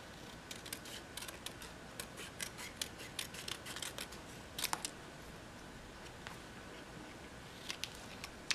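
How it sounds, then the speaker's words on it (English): Scissors snip through paper by hand in a quick run of small, crisp, close clicks over a soft hiss, with a few sharper cuts scattered throughout. "I'm just going to go ahead and hand cut this out."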